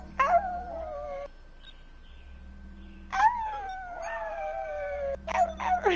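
Lulu the dog lets out long wavering howls in two drawn-out bursts with a shorter one starting at the end, separated by quiet stretches with a faint low hum underneath.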